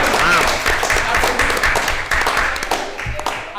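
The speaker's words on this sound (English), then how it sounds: "round of applause for that" Applause and clapping from a small group during a live podcast episode, loud and close, with voices talking over the clapping throughout.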